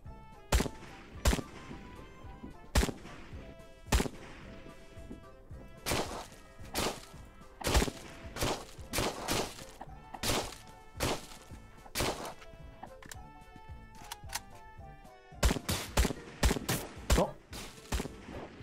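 Enemy gunfire rattles in the video game Trans-Siberian Railway Simulator, sharp repeated shots in irregular bursts and clusters, fairly close and loud, with a player speaking over parts of it.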